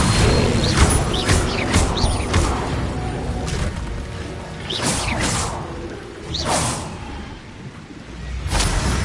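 Spell-casting effects from the Hogwarts video game, a Levioso spell: a series of whooshing, crackling magical bursts with sharp bright swells every second or two over a steady low rumble of game ambience, loud and close.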